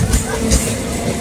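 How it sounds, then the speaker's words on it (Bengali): A train pulls out of Piyali railway station, a low, steady rumble running beneath a crowd's babble and nearby voices. "ট্রেন চলে যাচ্ছে।"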